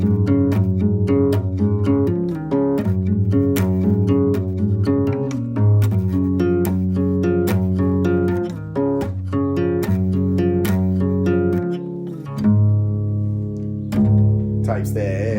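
An acoustic guitar plays the fast part of a song, a quick run of plucked notes over a steady low bass note, close and clear, finishing with a few slower ringing notes.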